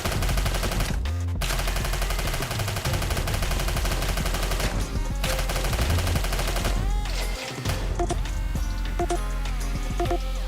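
Rapid gunfire from the video game Snezhinka: Sentinel Girls 2, a dense, continuous stream of shots layered over busy game sounds and music for the full stretch, loud and unbroken apart from a couple of brief gaps.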